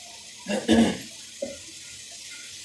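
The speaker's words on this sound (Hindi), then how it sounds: "अब मैं इसका पानी ड्रेन कर दूँगी" Water from blanched spinach pours off in two short gushes, a splashy drain into a sink followed by a brief trickle, close and fairly soft in an otherwise quiet kitchen.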